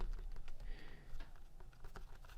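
Fingers typing on a membrane computer keyboard in a quiet room, a soft, faint patter of rapid uneven keystrokes running throughout with no voices.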